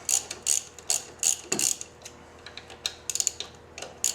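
Rapid ratchet clicks in short bursts as axle pinch bolts on a Victory XC motorcycle front fork are loosened, close and crisp with brief pauses between runs, no talking.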